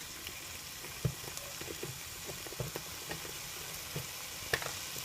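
Chicken breast sizzling in a pan for Japanese chicken curry, a quiet steady frying hiss with small scattered pops and crackles, no talking.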